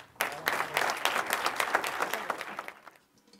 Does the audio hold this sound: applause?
yes